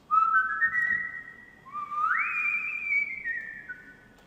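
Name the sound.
whistle phrases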